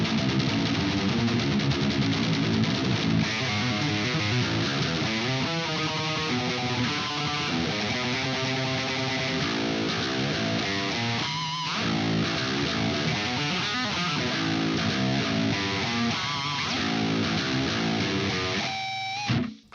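Heavy distorted electric guitar plays a fast, chugging riff in drop A tuning, dense palm-muted low notes with quick melodic runs, loud and continuous for about twenty seconds before cutting off.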